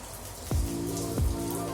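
Water drips after a rain shower under heavy dark clouds; two distinct drops land about half a second apart over a faint, steady background patter.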